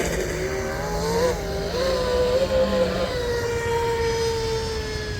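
A Cozy RC M950 8S mono RC boat of about 950 mm length runs steadily, its high motor whine rising and shifting in pitch as it travels, loud and continuous with no talk.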